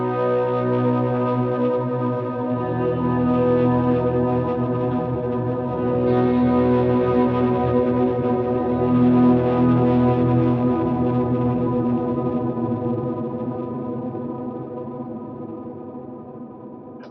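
Electric guitar swells played through a Helix Stadium rig with Trinity chorus and Memory Man delay, giving sustained, full ambient tones that build and decay steadily, loud and alone without talk.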